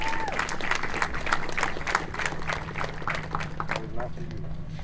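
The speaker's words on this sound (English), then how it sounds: "go ahead and give yourselves a round of applause for coming out" Crowd applause from students and student-athletes at a Texas A&M campus unity walk, steady dense clapping for the full stretch with voices and cheers mixed in.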